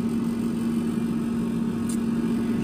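A steady mechanical hum with a constant low tone drones on, a pellet grill attachment's fan shutting down, with no voices.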